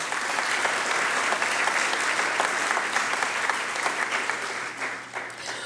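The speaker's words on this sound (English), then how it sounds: "please let's give them another round of applause" Sustained applause from an audience honoring award recipients at a business leadership awards ceremony, dense and steady clapping close by that fades slightly toward the end.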